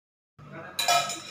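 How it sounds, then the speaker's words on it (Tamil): A frying pan is set down on a stovetop while spring rolls are being made: one solid close knock, then a brighter metallic clank with a short ring that fades, heard clearly with no talking. "இந்த மாதிரி ஒரு பேன் வச்சுக்கோங்க"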